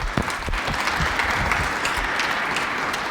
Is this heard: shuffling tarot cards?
no